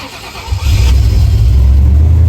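A supercharged gasser hot rod fitted with Holley Sniper EFI cranks briefly and catches, settling straight into a loud, deep, rumbling idle close by with no voices.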